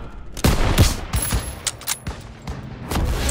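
Loud, close bursts of gunfire ring out in a World War II battle in Call of Duty WWII, with several heavy shots and rapid volleys echoing over one another in quick succession.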